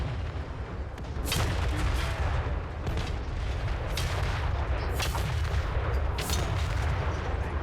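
Cathay Grand Cannons in Total War: Warhammer 3 fire repeatedly on the battlefield, several sharp booming blasts spaced about a second apart over a constant low rumble.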